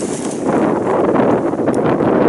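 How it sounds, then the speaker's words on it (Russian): Strong north wind roars and buffets the microphone continuously, a loud, steady rushing noise throughout. "Ветер какой."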